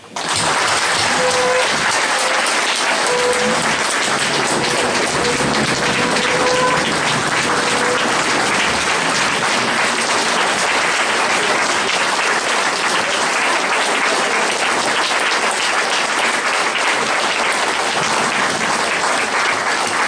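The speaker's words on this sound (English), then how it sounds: "I ask you to join me in applauding her." Sustained, dense applause from a large audience at a library gala fills the full twenty seconds, steady and loud from start to finish, with a few brief voices faintly audible early on.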